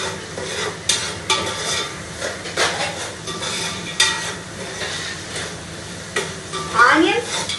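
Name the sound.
onions frying in pan for coconut rice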